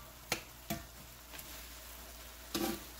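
Ground meat frying in a cast iron skillet gives a low background sizzle, broken by a few sharp spatula clicks and scrapes as it is stirred.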